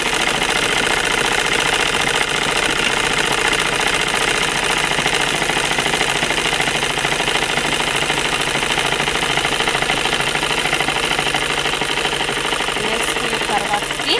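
A sewing machine stitching a dress seam runs continuously and loudly, a fast, steady mechanical whir and rattle throughout with no pauses.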